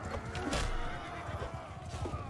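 A horse whinnies in a Warhammer-modded battle video game, a drawn-out neigh amid busy combat noise and low rumble.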